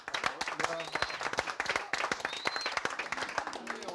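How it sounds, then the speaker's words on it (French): Hand clapping in a home kitchen in the Basque Country, a run of sharp, irregular claps close by, mixed with scattered applause-like patter, while people talk and react over it. "Hop, moi j'applaudis."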